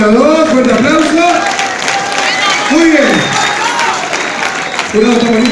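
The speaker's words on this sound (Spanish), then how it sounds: "fuerte aplauso para los dos" Audience at a freestyle rap battle semifinal at Niceto applauding and cheering as a loud, steady crowd roar, with a host's voice talking over it.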